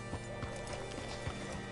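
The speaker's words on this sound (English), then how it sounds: "Hitch your horse up here." Horse hooves clip-clop on the ground alongside an occasional whinny in the video game Red Dead Redemption 2, set within a steady dense ambient bed, faint and continuous with no talk.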